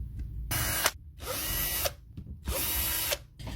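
A power driver unscrews the bolts on an FPV drone in three loud, close bursts of whirring, each about a second long, separated by short pauses.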